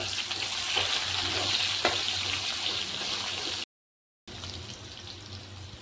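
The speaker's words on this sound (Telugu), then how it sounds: "వెల్లుల్లిపాయలు, అలాగే ఉల్లిపాయ, ఇవి కొంచెం వేగనిద్దాము" Garlic cloves, dried red chillies and onion frying in a pan give a steady broadband sizzle with a few soft stirring clicks, briefly cut to silence before the hiss resumes.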